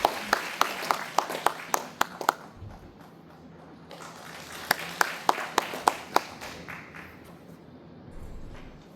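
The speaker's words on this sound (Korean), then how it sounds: "무대 위로 올라오실 때 다시 한번 축하의 박수 부탁드립니다" Scattered audience clapping at a literary award ceremony in a concert hall as the winner walks up to the stage, a few sharp claps standing out over a soft, sparse patter that fades out and then swells again.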